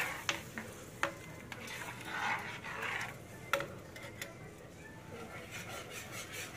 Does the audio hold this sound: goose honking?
no